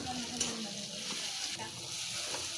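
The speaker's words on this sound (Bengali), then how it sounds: "মশলা ভাজা হয়ে গেছে পুরো" Spices sizzling in a pan while ghugni is being cooked, a soft continuous frying hiss with faint clinks, staying close and fairly quiet from start to finish.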